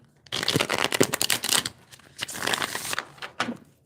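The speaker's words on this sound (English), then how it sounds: "I'm not shuffling well." Tarot cards being shuffled by hand for a reading, a close run of dense riffling and flicking bursts with brief pauses, no voice over it.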